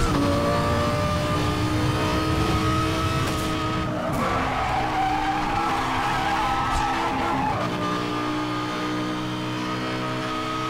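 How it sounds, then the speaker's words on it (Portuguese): A car drifting in Need for Speed Hot Pursuit Remastered holds a loud, continuous tire squeal over a steady engine drone, with the pitch bending as the slide changes, close and unbroken for about eleven seconds. "Meu amigo, que drift é esse?"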